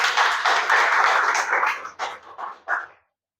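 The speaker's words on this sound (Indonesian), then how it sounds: "Tepuk tangan yang meriah." Audience applause at a business and coffee-outlet investment event in an amphitheater: dense, loud clapping for nearly two seconds, then thinning into a few scattered bursts before stopping.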